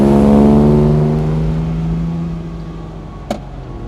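A Lancia Aurelia B20 Coupé cruises along with a loud, steady engine drone that slowly eases off as it settles into a gear, with a brief sharp knock near the end.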